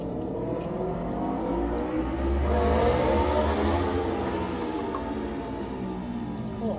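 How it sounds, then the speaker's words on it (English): Cars racing around outside a downtown condo in Celebration, Florida, a steady rumble of passing engines rising and falling, with one louder surge midway, heard at a distance from indoors without talk. "I live in a condo that's very noisy, so that's what you hear in the back, people racing around."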